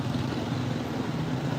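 Busy street traffic in Dumaguete, Philippines, heard while walking along the road: a steady, fairly loud wash of passing engines and general roadway noise, with no talk.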